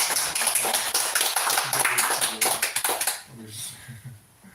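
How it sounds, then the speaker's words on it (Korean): A church congregation claps together during a Sunday worship service, a dense, fairly loud burst of applause for about three seconds that then stops as a voice continues speaking. "두 분을 위해서 축복의 박수 한번 부탁드립니다"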